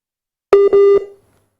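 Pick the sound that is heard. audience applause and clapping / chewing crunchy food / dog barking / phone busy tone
phone busy tone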